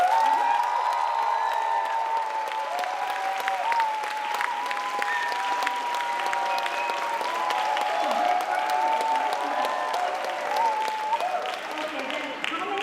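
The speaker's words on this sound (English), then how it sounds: "Just clap for your dancer if you hear their name." An audience claps at a dance graduation event, steady applause running under a host's amplified speech, with light cheering mixed in for the dancers' families.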